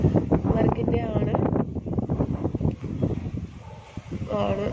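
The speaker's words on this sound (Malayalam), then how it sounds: "വളരെ കാറ്റ്, വലിയ ശബ്ദം" Strong wind roars and buffets the microphone outdoors, a loud continuous rumble with gusty surges that runs through the whole stretch.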